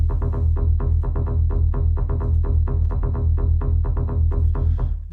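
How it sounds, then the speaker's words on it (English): Analog-sounding soft synth bass line in an electronic dance track, a steady rapid pulsing of short notes, loud, close and alone with no talk. "we got the bass line that sounds really analog, which basically is just a soft synth"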